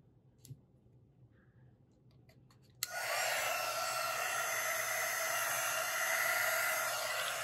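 A heat tool switches on with a click after a few quiet seconds of faint ticking, then blows a loud, steady rushing whoosh over wet acrylic pour paint on a square tissue box holder, continuing to the end.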